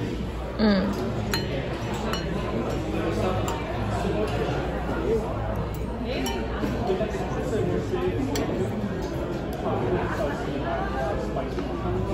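Glass and cutlery clink lightly while a melon juice dish is stirred at a Michelin-starred restaurant table, small scattered taps over steady dining-room chatter and people talking.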